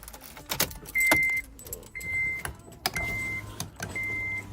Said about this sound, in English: So grab the keys. Here's the keys.